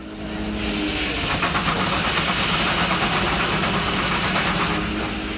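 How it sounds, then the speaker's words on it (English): Two Russell steam traction engines, simple rather than compound, belted to a sawmill with a huge saw biting into wood; a loud, continuous mechanical roar with fast rhythmic exhaust chuffing that swells as the cut begins. "These 2 gorgeous Russells are both backed into the belts on the mill, and it's easy to tell when Tom starts the cut."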